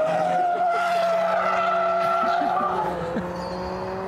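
Tyres squeal in a slight drift from a Toyota AE86 or a Mazda MX-5 1.5 on track. The squeal is close and sustained over a droning engine note for about three seconds, then fades.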